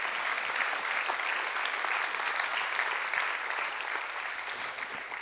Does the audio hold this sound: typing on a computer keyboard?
no